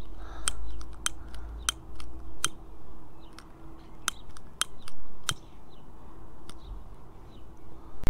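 Cord on a hammock underquilt being cut, a series of sharp, close scissor snips spaced unevenly, with soft handling rustle between them and no talk.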